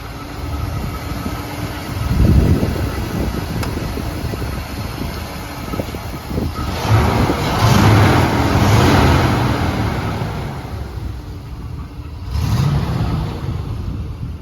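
A 1993 Ford SVT Lightning pickup's engine runs with a steady rumble and swells of revving, loud and close, with no talk over it.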